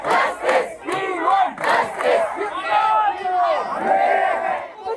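A large crowd of protesting doctors chants loudly in unison at a nighttime demonstration in Kolkata, with rhythmic shouted phrases rising and falling repeatedly.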